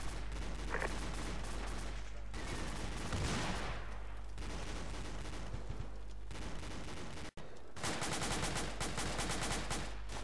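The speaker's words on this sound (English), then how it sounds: "Standby rocket coming out, east." A rocket launch in a military video game comes amid dense, continuous gunfire-like noise. Heavy blasts and rapid crackling bursts pile up throughout, broken by a brief drop-out before the din resumes.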